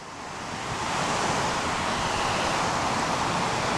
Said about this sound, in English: Runchet Khola Jarana or Runchet River Waterfall.